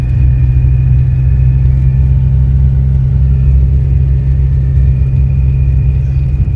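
A loud, steady Tofaş Şahin car engine drones throughout with a deep low rumble and constant idling tone, no talking over it.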